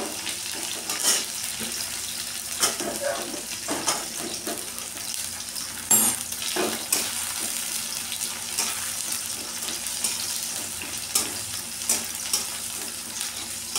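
Onions fry in a pan for a mince filling, giving a continuous close sizzle and crackle with frequent clinks and scrapes of stirring, and no one speaking.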